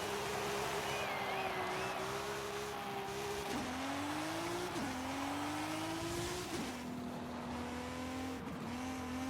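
An Audi in the Forza Horizon 5 racing game drives at speed, its engine droning steadily and stepping up in pitch through gear shifts, with a faint tire squeal over the continuous road noise.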